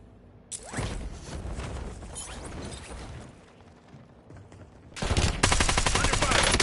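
Automatic gunfire in Call of Duty, a stretch of rattling bursts that fades, then a loud, dense volley of rapid shots near the end, up close.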